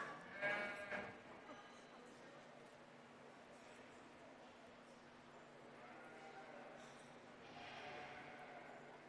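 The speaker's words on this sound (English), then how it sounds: "we got to get James out here to show some sheep" Sheep bleating at a local livestock show, a few faint calls heard at a distance over a low hum and general barn noise, with people talking nearby.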